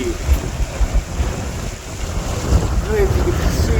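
Strong wind buffets the microphone aboard a boat on a waterway, a steady roar with gusts rising and falling alongside water wash, while a faint voice mutters underneath.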